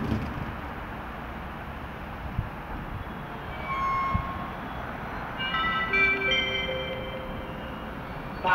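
A Czech Railways passenger train on the S9 line from Praha hlavní nádraží arrives at Praha-Hostivař station, a steady low rumble with rising squealing brake tones, moderately loud and without talk.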